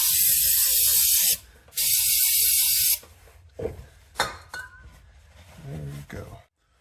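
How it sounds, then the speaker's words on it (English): Cleaner sprayed onto the transfer case of a 2021 Kia Seltos SX AWD 1.6 Turbo in two close, loud hissing bursts of about a second each, followed by quieter handling noises and talk. "give that guy a nice little spray"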